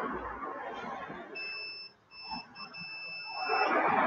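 A multimeter set to continuity gives a steady high electronic beep in a few stretches lasting about two seconds while testing a thermostat repair part, with faint background room noise.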